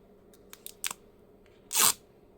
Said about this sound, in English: Just take the sticker off.